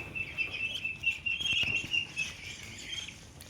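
Chinese duck ducklings about six weeks old peep in a steady run of thin, high chirps, close and fairly clear over a soft background rustle, with no talking.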